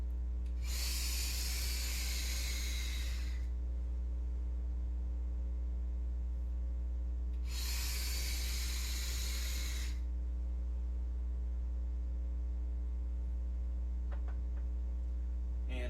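Two bursts of hissing vapor, each about three seconds long, come from a CCI Triforce vape tank firing close by over a constant low electrical hum.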